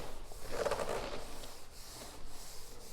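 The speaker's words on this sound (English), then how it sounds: "loading it onto some superfine steel wool. And then I am working it in to the grains of the floor." Superfine steel wool loaded with finishing wax being rubbed into a wood floor along the grain, a soft continuous scratchy swishing with a brief stronger stroke, close up and moderately quiet, no speech.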